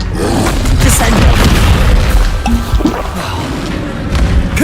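A Descendo spell slamming down in Hogwarts Legacy, a heavy booming thud within a dense, loud layer of game combat noise, with a voice talking over it.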